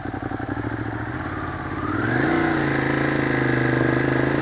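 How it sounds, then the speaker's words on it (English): A Ducati Monster 821 V-twin motorcycle engine chugs with a close, throbbing idle-like pulse, then revs up and holds a louder, smoother drone, with no voices. "it's got that great sound to it. Great V-twin sound."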